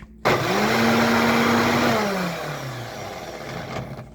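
A kitchen blender whirs loudly and steadily while chopping homemade food for baby chicks, its motor pitch sagging as oversized chunks bog it down, then fading at the end.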